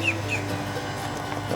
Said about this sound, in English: The noise you hear is the battery charger.